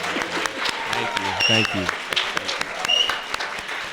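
Audience applause for musicians at a Juneteenth event, a steady wash of clapping across the hall with a brief spoken thank-you over it.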